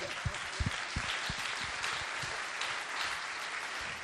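An audience at a New Year's greetings event applauds, a steady wash of clapping from many hands with a few sharper nearby claps.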